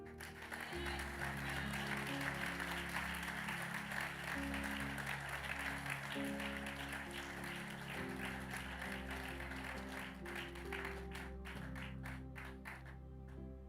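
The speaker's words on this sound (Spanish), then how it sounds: "Den un aplauso a Dios." Congregation applause during a church sermon by Pastor Carlos Chavez: a dense, sustained wash of clapping beneath steady held music chords, moderately distant and even throughout, with a few sharper claps near the end.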